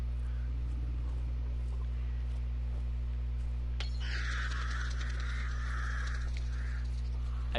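Startled crows caw together in the video game Hunt: Showdown, a sudden burst of harsh calls that breaks out midway over a steady low hum and carries on for several seconds.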